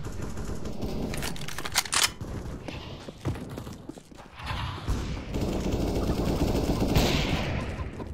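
Gunfire from Counter-Strike: Global Offensive crackles in rapid bursts and scattered shots amid busy in-game noise, fairly loud with denser volleys toward the start.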